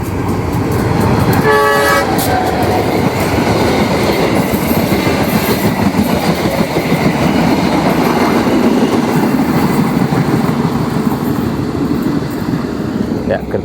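The Sibinuang passenger train from Pariaman to Padang passes at Nagari Boyan around 6 pm. It gives a loud horn toot early, then a continuous rumbling roar and clatter of wagons rolling by close up for the whole stretch.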